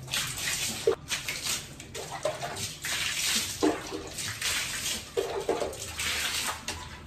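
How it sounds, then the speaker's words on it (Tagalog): Water is splashed from a bucket onto a floor in repeated uneven pours, close splashing and sloshing bursts separated by brief pauses, with no talking. "At nang matapos ko ang buhusan ng tubig dito sa lapag"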